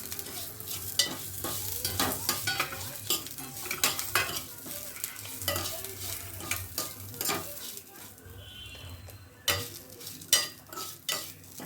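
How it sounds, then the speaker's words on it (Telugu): Fenugreek seeds and curry leaves frying in a pan with cumin and green chillies, a soft sizzle under repeated scraping and clinking of a metal spoon stirring against the pan, close and steady. "ఇవి మెంతులు, అలాగే కరివేపాకు అన్నిటినీ కలిపేసి వేయించుకుందాము."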